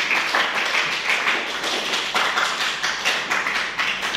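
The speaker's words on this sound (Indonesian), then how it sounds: "aplaus buat dia" A classroom audience applauds a student presenter after a sociology lecture presentation, a steady patter of many hands clapping at close range for several seconds with no talking.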